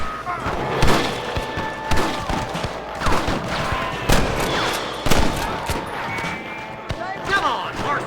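Repeated gunfire in the Western video game Red Dead Redemption: sharp shots and bursts crack out at irregular intervals, loud and near, with characters shouting between them.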